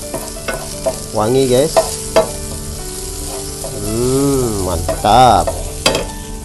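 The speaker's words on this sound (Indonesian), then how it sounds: "Oke, ini kita tumis." Ingredients for East Javanese garang asem being sautéed and stirred in a pan, giving a steady sizzle and scraping beneath a voice speaking close by throughout.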